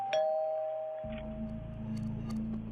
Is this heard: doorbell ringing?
yes